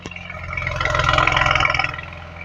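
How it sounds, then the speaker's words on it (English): A 2016 Mercedes GLE 43 AMG exhaust rises in a short rev and falls back, a moderately loud, close engine burble with a whirring top end, no talking over it. "I want people to hear the exhaust system of this car."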